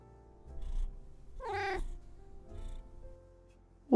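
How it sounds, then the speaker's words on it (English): A small black cat meows once, close and clear, a rising then falling call set against soft indoor rustling and a few faint thumps. "Like an actual little black cat."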